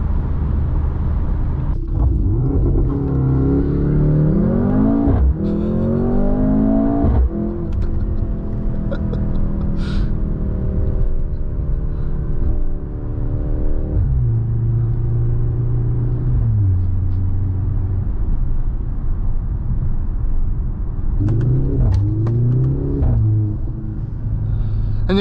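Engine of a 2024 Mercedes-AMG GLC 43 SUV under way, its note climbing and dropping through several gear changes over a steady road rumble, loud and close with no talking.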